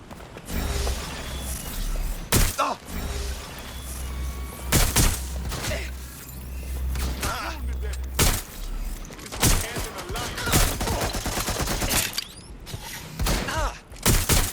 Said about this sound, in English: Shots fired! Request backup.